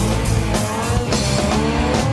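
A white Mitsubishi Lancer running a Lancer Evo 3 motor with locked diffs drifts across a pad at a motorsport event, engine roaring steadily with tire squeal and skidding, loud and close throughout.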